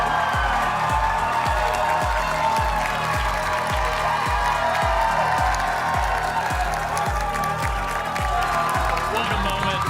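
A large esports arena crowd at a Valorant match cheers and applauds in a sustained loud roar with steady rhythmic clapping, nearby and unbroken throughout.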